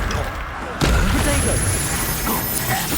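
A Confringo fire spell blasts in Hogwarts Legacy, a sudden loud burst followed by crackling, rumbling combat noise, with a voice shouting over it.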